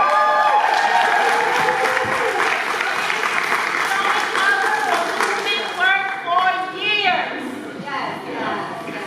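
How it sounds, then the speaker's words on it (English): A large crowd at a rally applauds loudly, fast clapping filling the room with some cheering, then tapering off as the clapping thins out. "Give him another round of applause."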